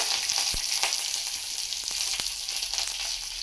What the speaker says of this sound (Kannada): ಸಾಸಿವೆ ಸಿಡಿದಾದ್ಮೇಲೆ ತಗೊಂಡಿರುವಂಥ ಕರಿಬೇವು, ಕಡಲೆಬೇಳೆ, ಉದ್ದಿನಬೇಳೆ ಹಾಕೋಬೇಕು